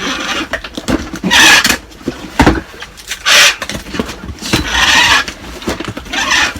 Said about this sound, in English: Now that noise you can hear in the background is just the guys packing your orders.